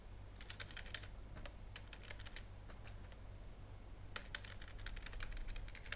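Numbers being keyed on a computer keyboard, a quick run of crisp, close clicks in short clusters with small gaps, over a steady low background hum and without any speech.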